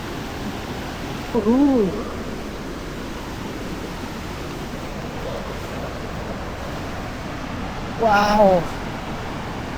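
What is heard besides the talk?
rushing waterfall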